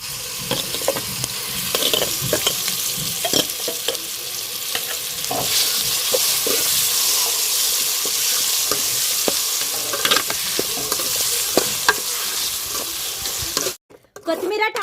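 Curry leaves sizzle and crackle steadily in hot oil for a tomato coriander chutney, a loud continuous fry with occasional stirring clicks, cutting off briefly near the end.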